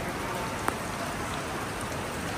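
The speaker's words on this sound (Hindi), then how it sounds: "बारिश हो रही है बहुत तेज़" Heavy rain pours steadily beside the Monster Building in Hong Kong, a dense, even hiss that holds throughout with one brief sharp tap partway in.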